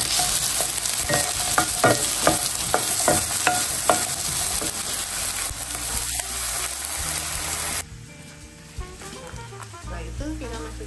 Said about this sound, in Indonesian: Nah sekarang aku mau goreng paprika dulu.